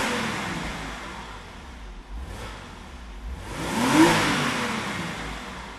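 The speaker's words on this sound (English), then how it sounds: "But I'm going to give it a couple revs here." A 2002 Porsche Boxster S 986 engine idles, then is revved twice, each rev swelling into a rising mid-pitched roar before settling back, heard close up with no talk.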